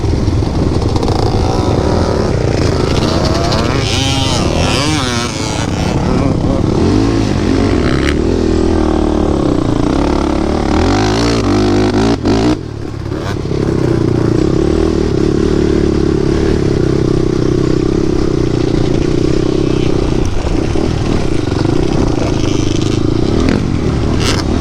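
A hybrid race quad's engine revs hard during drag racing on the sand dunes at Little Sahara, a loud, sustained buzzing roar that rises and falls, close to the microphone, with a brief dip midway before climbing again.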